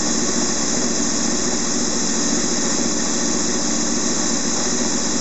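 A Honda VFR800 motorcycle engine, sixth generation, idles at a steady, constant drone with a continuous buzzing hum, loud and close, no revving, during starter valve synchronisation.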